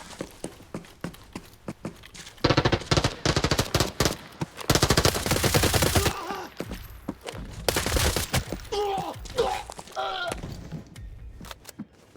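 Bursts of automatic gunfire in the shooter Arena Breakout Infinite, with scattered single shots and long dense volleys alternating, some loud and close, others quieter, with no voices.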